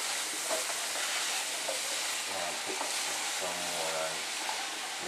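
Saltfish and callaloo sizzle in a pot while being stirred, a steady broadband frying hiss with brief scraping strokes, close and moderately loud, faint talk underneath.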